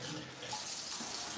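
Water running from a tap into a measuring cup while baking, a steady close hiss and splash of pouring with no talk.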